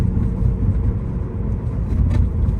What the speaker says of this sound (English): So shift's nice and easy. We're in third gear right now.